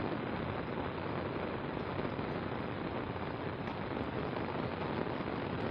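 Heavy rain falls during a storm in a dense, steady hiss of drops on surfaces, constant and unbroken with no talking over it.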